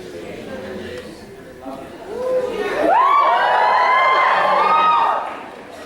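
Graduates at a university convocation cheer as their school is mentioned, a swelling crowd roar with shouts and whoops that rises sharply and holds loudly for a few seconds.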